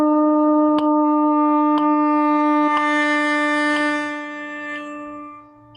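A single sustained long tone on a wind instrument during a practice warm-up, held steady and swelling in strength, with faint regular metronome clicks once a second underneath before it fades away.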